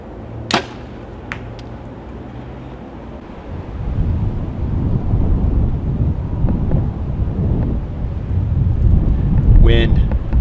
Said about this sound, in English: Kind of a windy day today.